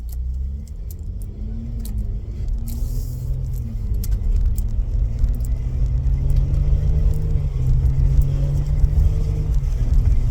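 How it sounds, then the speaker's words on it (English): A car engine idles with a deep, loud rumble and its pitch slowly rises and falls as it revs gently. Small clicks and jangles sit on top, and no one speaks. "Just listen to the engine, guys."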